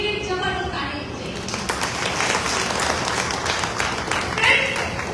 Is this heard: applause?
yes